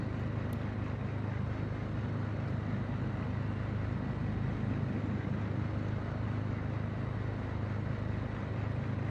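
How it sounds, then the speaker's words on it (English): Cabin air blower running in a simulated aircraft in Microsoft Flight Simulator 2024, a steady broadband whoosh with a low rumble, constant and fairly loud throughout with no voices. "we can turn on our blower"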